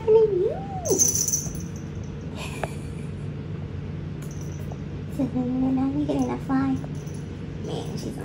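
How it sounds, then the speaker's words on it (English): A house cat meows several times from outside, a rising wail near the start and a few shorter calls later, fairly close over a steady low hum. "She's outside meowing."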